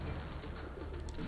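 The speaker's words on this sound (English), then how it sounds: "There's a pigeon!" A pigeon coos softly in the video game Marvel's Spider-Man, low and partly buried under dense, steady city ambience.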